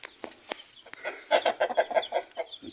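Heritage chickens and loose chicks cluck and peep in a run of short, close calls, growing busier and louder toward the end, with no talk over them.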